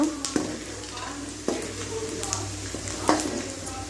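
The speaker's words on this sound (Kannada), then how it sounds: "ಕಡಲೆ ಬೀಜಕ್ಕೆ ಕೆಂಪಗೆ ಹಾಕಬೇಕು" Peanuts roast in a pan for vangibath, heard as a soft background sizzle broken by a few sharp stirring scrapes and clinks against the pan, with no talk.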